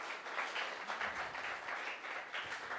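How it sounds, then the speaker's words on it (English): An audience applauds a speaker at a talks event, steady, moderately distant clapping of many hands that holds evenly throughout without any voices. "Give a hand of applause to Karthik."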